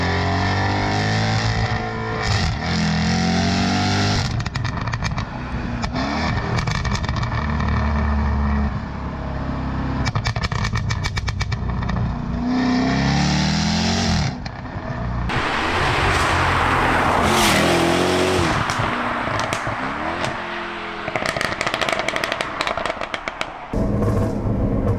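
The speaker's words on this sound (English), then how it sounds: "the F-Type SVR comes as standard with an Inconel sports/race/gunfire exhaust system" A Jaguar F-Type SVR engine revs hard and close, its Inconel exhaust crackling and popping in rapid bursts like gunfire between throttle blips.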